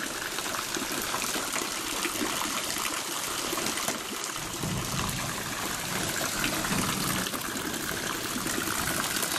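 Floodwater from a Cévennes storm episode in Laroque gushes out through a garden gate. The rushing water is steady, loud and close, and it runs without a break.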